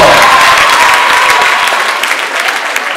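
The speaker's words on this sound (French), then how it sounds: "Est-ce qu'on peut encore acclamer très fort?" Loud, sustained applause from a crowd of students at Lycée Mayidiyo in Kamina, close and continuous, fading slightly toward the end.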